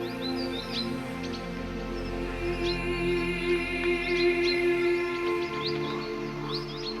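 Birds in the Biebrza marshes of Biebrza National Park, short chirps and calls scattered at moderate distance over a sustained low musical drone, repeating irregularly throughout.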